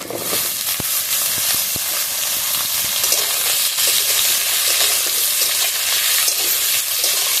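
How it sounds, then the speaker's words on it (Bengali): Sliced potatoes and onions frying together in a pan, making a loud, dense sizzle with occasional stirring clicks and scrapes, steady and close throughout with no talking. "পেঁয়াজ আলু একসাথে ভেজে নেবো।"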